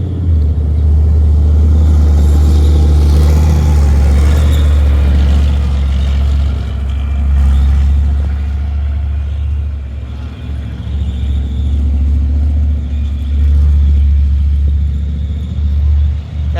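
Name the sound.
Leopard 1 tank driving and accelerating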